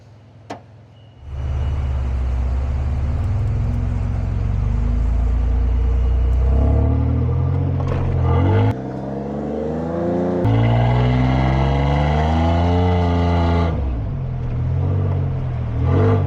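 A car's engine revs hard with a steady, loud roar while the car is stuck in beach sand, rising and dipping in pitch over several pushes of throttle with no voices.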